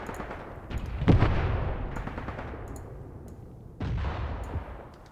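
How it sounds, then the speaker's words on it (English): Mortars in the Graviteam Tactics war game fire in two heavy, booming reports a few seconds apart, each trailing off in a long rumbling decay, with faint distant pops between them. "my mortars are shooting"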